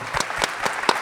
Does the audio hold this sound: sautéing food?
no